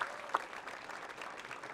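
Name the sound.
audience round of applause for teachers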